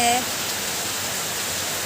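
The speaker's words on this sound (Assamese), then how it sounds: "এতিয়া দি আছে পূৰা বৰষুণ" A constant, thick roar of heavy rain fills the whole stretch, loud and unbroken.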